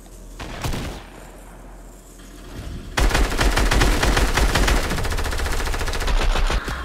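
Submachine gun fire in an online shooter game, a few scattered shots followed by a loud sustained rapid burst of automatic fire lasting several seconds, with no talk over it.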